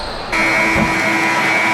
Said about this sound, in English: Houston in command with a 16-point lead as the buzzer sounds